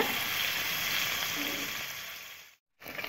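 Cubes of paneer fry in hot oil in a pan, giving a continuous close sizzle that holds steady, fades slightly and cuts out briefly near the end.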